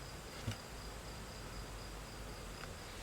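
Honeybees in an open hive give off a steady, soft buzzing hum that stays constant and close, with a faint tap near the start and no voices.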